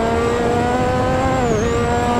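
Lotus 98T turbocharged Formula One car in Assetto Corsa at Brands Hatch, a loud steady high-pitched engine whine held close, dipping briefly as revs drop during a downshift.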